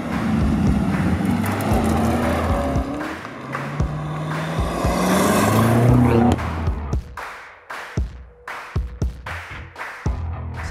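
A BMW M5 F90 driven hard, engine tone rising and falling through acceleration, then tyre and road noise with sharp knocks and clatter as the car is pushed through corners.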